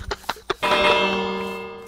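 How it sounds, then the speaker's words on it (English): A single resonant bell strike rings out in a Minecraft game after a few soft knocks, its tone sustaining and slowly fading. "the death bell."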